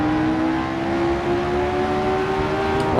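A McLaren race car at full throttle in a racing game set on the 1967 Reims-Gueux circuit: a steady, loud engine drone holding one high pitch that rises slightly as it passes, with no voices.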